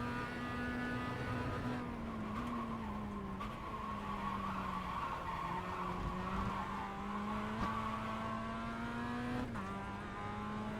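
An Advanced Mazda MX5 Cup car in iRacing at Lime Rock Park oversteers on corner exit. Its tires squeal steadily and loudly over the droning engine, and the pitch bends as the driver corrects.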